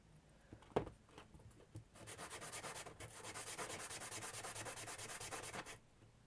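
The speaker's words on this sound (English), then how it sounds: "I'm going to sand that edge down so it's nice and smooth" Steady back-and-forth scratchy rasping of a sanding block rubbing balsa wood, continuous strokes after a couple of brief knocks, close and fairly loud.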